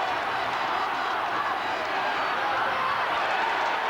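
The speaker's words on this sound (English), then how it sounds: "now you can hear the Derry crowd starting to try and lift their team somewhat" At the 2000 Ulster Gaelic football final between Derry and Armagh, the Derry supporters raise a steady, distant roar of cheering that fills the stadium, with a commentator's voice faintly present.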